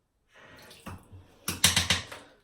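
Water from a tap splashes briefly onto a regular toothbrush in short bursts, with soft trickling, then a few louder spatters near the end.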